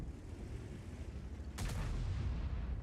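A tank cannon fires in a World of Tanks–style match involving an E100 and a Löwe, one deep distant boom rising out of low rumbling engine noise and lingering briefly.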